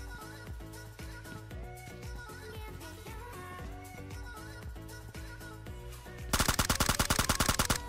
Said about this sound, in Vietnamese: Bọn kia nó bắn lại rồi kìa